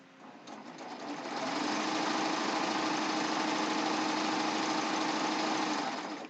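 A serger stitches the seam of a ruffled pillowcase with a continuous fast, even mechanical whir that starts up, holds steady and loud up close, then winds down.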